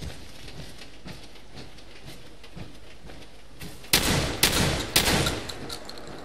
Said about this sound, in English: Never-ending combat shotgun.